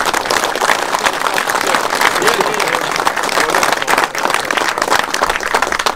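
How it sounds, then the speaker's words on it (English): Steady, loud round of applause from a crowd at the opening day of a lake fishery, continuous dense clapping throughout with murmuring voices underneath. "So I think we should give a, a, a round of applause to these three fantastic people."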